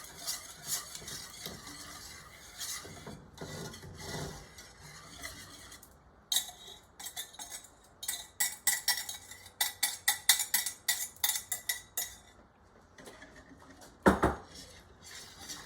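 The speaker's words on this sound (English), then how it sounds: "And then I'm going to whisk this until it's nice and incorporated" A whisk beats cream into caramel sauce in a pan on the stove, giving rapid rhythmic metallic scraping and clinking strokes in bursts, near and fairly loud, with pauses between runs and no talking.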